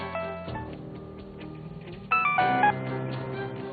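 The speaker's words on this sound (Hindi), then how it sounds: "अपने मुबैयना आशना को फोन कर दिया।" A telephone number is dialed on a keypad, a short series of distinct beeping tones in two bursts, fairly close and clear with no talking.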